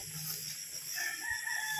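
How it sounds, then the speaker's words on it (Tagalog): A rooster crows once at a distance on a farm, faint against a steady background hiss. "Kikiraan, dahil manok."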